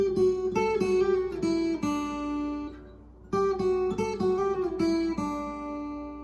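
Slack key guitar plays a passage from Kealoha at a quicker tempo, with plucked notes and hammer-ons ringing in a steady rhythm, a brief pause midway, then the phrase repeating, close and clear with no talking.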